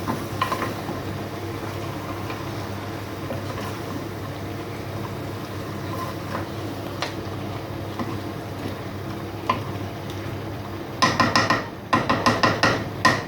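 A spoon stirs mutton and potato curry with coriander in a pot, over a low steady sizzle, ending in a burst of quick metallic scrapes and clanks against the pan.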